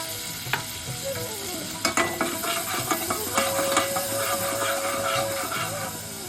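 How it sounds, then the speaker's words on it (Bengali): Curd added to a pan of cauliflower curry on lowered gas flame, giving a steady sizzle and frying hiss with intermittent spoon-stirring scrapes and clinks of the pan throughout. "গ্যাসের ফ্লেমটা এবার আমি কমিয়ে এবার আমি দই দিয়ে দিচ্ছি"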